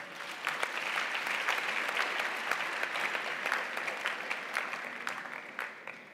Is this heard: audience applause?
yes